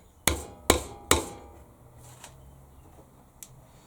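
Three sharp hammer taps drive lug nuts into a 200 by 50 timber board, struck in quick succession, followed by faint scattered knocks and a final light tap, close and alone.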